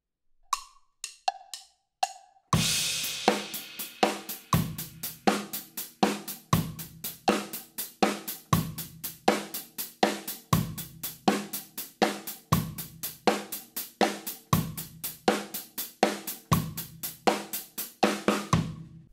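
A metronome click ticks alone briefly, then a drum kit enters with a steady groove: kick and snare hits punctuating constant eighth-note hi-hats, the click still running underneath, moderately quiet and evenly paced.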